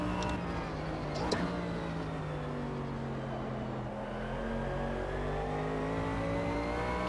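Race car engine in the Automobilista 2 racing game, held at a steady high drone and then short-shifted, its pitch sliding through a gear change, loud and continuous.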